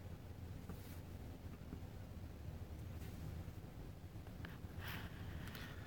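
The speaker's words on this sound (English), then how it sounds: "it's really windy" Strong wind blows outdoors around an old VW bus, a constant, faint rushing roar with occasional soft gusts and no talking.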